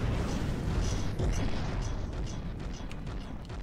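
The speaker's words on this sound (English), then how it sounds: "now I got all my cannons firing and wasting ammo" Cannons fire continuously in the From The Depths video game, a dense, rumbling barrage of booms and bursts that stays loud and steady throughout with no speech.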